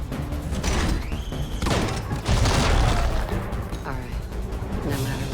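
Rapid gunfire and blasts in a combat simulator in a video game, dense bursts of shots running continuously under loud ambient battle noise.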